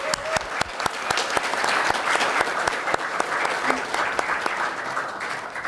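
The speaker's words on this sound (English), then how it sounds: "Let's give them a big round of applause to our panelists." An audience applauds panelists at a leadership panel discussion in a hotel, a full, sustained wash of clapping with some distinct nearby claps cutting through and faint voices underneath.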